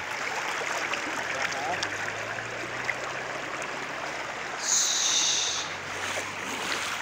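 A small river stream flowing, a steady broad rush of water close by, with a brief brighter splash or hiss partway through and a faint low hum underneath.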